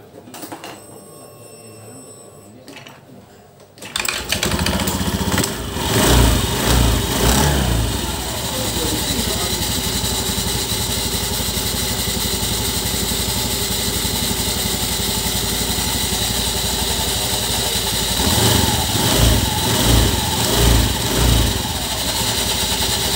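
A Honda Vario 110 FI scooter engine with a CVT runs steadily after a quiet start, revving up and down with a smooth mechanical drone, close and fairly loud.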